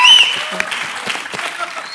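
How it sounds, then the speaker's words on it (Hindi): A comedy show studio audience breaks into brief, dense clapping that swells at once and then thins out slightly, a short burst of applause close and fairly loud. "तालियां।"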